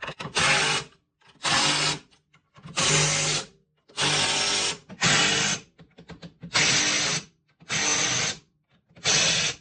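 Power tool tightening bolts on a leveling block of a Chevrolet Silverado pickup, eight loud whirring bursts of about a second each, separated by short pauses, close up with no talking.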